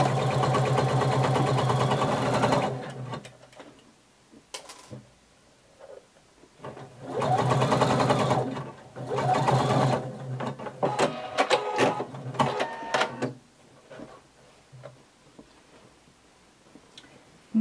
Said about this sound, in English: Now we're going to sew down the other side